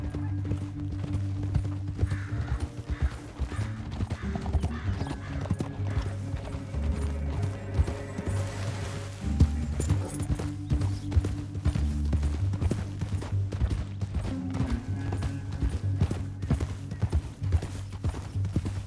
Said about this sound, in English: Up here, get off your horse.